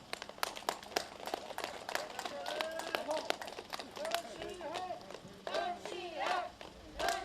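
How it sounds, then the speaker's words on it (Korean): A crowd claps at an outdoor market-day election campaign rally for a Cheongsong County council candidate, with a steady patter of hands mixed with voices talking over it. "박수 한번 치시죠."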